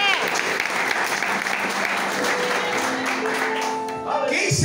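Church congregation applauding at a lively evangelical service, steady dense clapping filling the room throughout, with voices mixed in and a sustained tone rising near the end.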